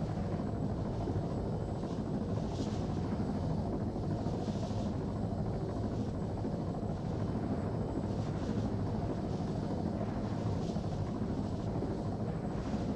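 Military helicopter in the video game Arma, a dense, constant rotor and engine roar that stays loud and close throughout with no break.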